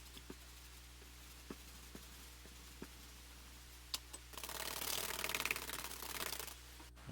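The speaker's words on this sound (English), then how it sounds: "I'll just use the 400 and 1000 grit to clean and give a light polish" A fret eraser rubs over the frets of a 2018 Fender Precision Bass Deluxe Active, first as a few faint scattered taps, then as a dense, steady scrubbing that runs for about two seconds, close and quiet, with no voices.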